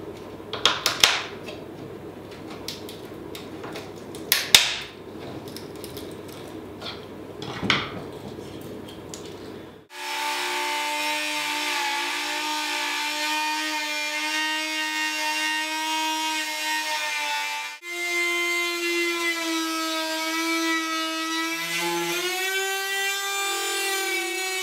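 Cutting along the length of a Japanese knife's wooden handle to split it open, first a few scattered scraping and knocking sounds, then a steady grinding tone that holds for several seconds, pauses briefly and resumes at a slightly different pitch.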